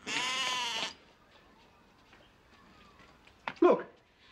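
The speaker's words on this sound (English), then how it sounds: "Where's that rotten sheep?" A sheep lets out one loud, close, wavering bleat, followed by quiet and then a brief voice speaking.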